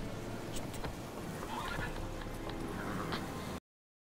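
A horse neighs and whinnies in The Witcher 3: Wild Hunt, with a steady low rumble of hooves and game ambience underneath throughout.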